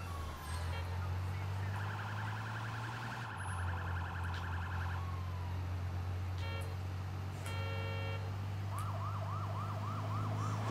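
Police sirens from the video game Sleeping Dogs wail and yelp, several overlapping tones rising and falling over a steady low engine drone, loud and continuous with short breaks between siren patterns.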